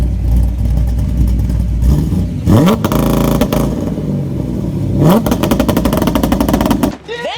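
A Chevrolet Corvette engine with a two-step launch control roars and revs hard with rapid crackling pops, surging and dropping in repeated bursts before cutting off near the end.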